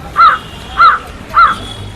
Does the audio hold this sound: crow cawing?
yes